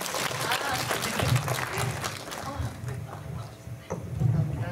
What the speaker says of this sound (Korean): 네, 큰 박수 부탁드립니다.